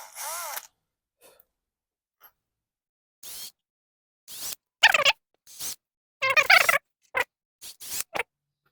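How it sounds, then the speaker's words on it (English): Short bursts of a hand drill bit enlarging a hole in a plastic washer, several brief whirring spurts separated by pauses, close and fairly loud. "I will do the clearance with my drill bit."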